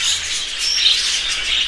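Young birds about four to five months old calling in an aviary, a busy overlapping chorus of high chirps and tweets throughout, fairly close and steady.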